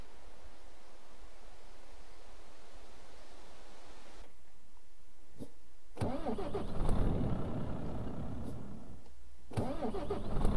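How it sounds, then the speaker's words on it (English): A simulated truck engine in Euro Truck Simulator 2 idles steadily, cuts out, then cranks and restarts with a rough rising rumble, stalling briefly once more before starting again. "The truck does seem to stall more often."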